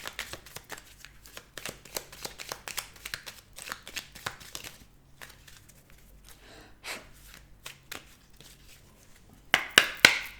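Petit Lenormand cards are shuffled by hand, a soft riffling and flicking that repeats in uneven bursts, close and fairly quiet, with a sharper flurry of card snaps near the end.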